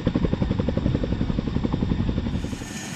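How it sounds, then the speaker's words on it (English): A Chinook helicopter hovers at low altitude, its rotors throbbing in a fast, steady, loud chop over a constant engine whine. "The Chinook is particularly well suited for this maneuver because of its powerful engines, which enable it to maintain a steady hover at low altitudes."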